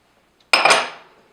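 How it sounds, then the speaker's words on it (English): Muffin batter of whole wheat and all-purpose flour being stirred in a bowl, a sudden close scraping clatter of utensil against bowl that fades over about a second. "And keep stirring that."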